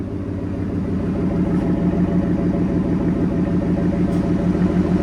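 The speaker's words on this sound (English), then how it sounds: "Ford F-150. With a Corsa performance muffler and new tip." Ford F-150 with a 5.0L V8, Corsa performance muffler, new tip and deleted resonator, idling steadily, a deep, even, rumbling drone heard from inside the cab, with no voices.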